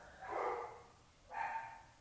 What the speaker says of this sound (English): if you hear my dogs